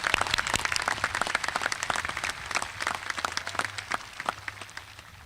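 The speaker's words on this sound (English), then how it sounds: "Let's all give our graduates a deserving round of applause." Audience at the Jefferson City High School Class of 2020 graduation applauding the graduates, a steady spread of many hands clapping that thins out and fades toward the end, with no talk over it.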